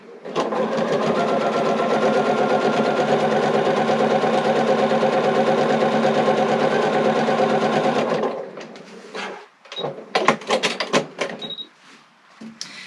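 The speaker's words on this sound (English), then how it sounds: "And again, just sew straight down." A sewing machine stitches a straight seam on quilt fabric with Aurifil thread through Island Batiks, whirring loud and steady for about eight seconds, then stopping, followed by scattered clicks and fabric handling.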